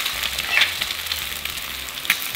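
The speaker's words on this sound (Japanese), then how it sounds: "この状態で卵を入れる。" An egg sizzles in an iron frying pan over high heat, a steady crackling fry with a few sharper pops, close and fairly loud.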